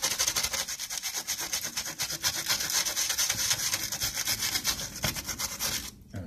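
Brisk back-and-forth scrubbing of a circuit board cleaned with isopropyl alcohol to remove old flux residue during through-hole soldering, a steady rhythmic rubbing close up that runs throughout and ends abruptly.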